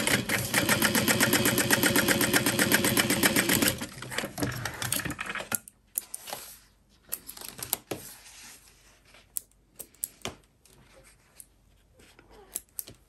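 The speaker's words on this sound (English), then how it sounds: "I'm going to sew these together." A sewing machine stitches backpack fabric pieces together in a fast, even mechanical rattle for several seconds, then stops, leaving scattered clicks and handling noises of the fabric.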